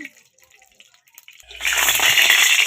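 Mustard oil poured into a hot karahi sets off a sudden, loud, close hiss and sputter that starts after a quiet moment of faint handling and keeps going to the end.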